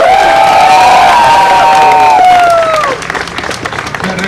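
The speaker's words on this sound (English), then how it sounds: "Big round of applause to each and every one of you." A large school crowd at Knowledgeum Academy's Independence Day record event claps and cheers loudly, with children's shouts and whistling rising above the applause before it thins out toward the end.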